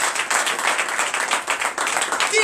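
A church congregation claps and acclaims Jesus during a night deliverance service, brisk dense clapping in a lively, slightly pulsing rhythm that fills the brief moment.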